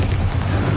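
Bombarda explosion spell from the video game Hogwarts Legacy, a short, loud, low boom with a rumbling burst that fills the whole moment.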